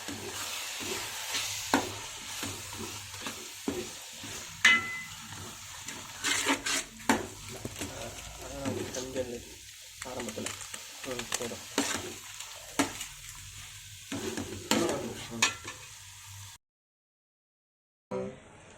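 Masala, onion, tomato, green chili, mint and coriander sautéing in a pan for country chicken biryani, a steady close sizzle broken by frequent stirring scrapes, then a brief silence before the frying resumes.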